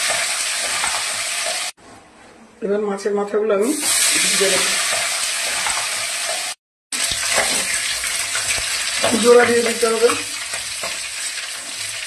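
Fish heads frying in hot oil crackle and sizzle loudly and close up, with two brief silent gaps. A voice speaks over the frying in two short stretches.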